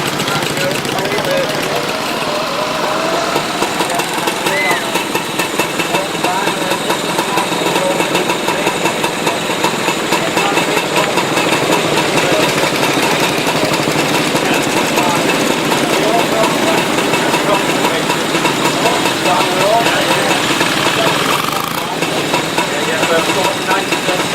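Motorcycle engines run steadily and loudly through a rally, a continuous mid-pitched drone with knocking vibration, heard alongside people talking nearby.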